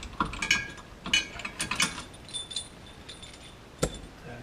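Side bolts being loosened on a steering wheel puller during a steering wheel swap on a 1969 Oldsmobile Cutlass 442, heard as scattered metallic ratchet clicks and clinks in short bursts, with a single sharp clank near the end.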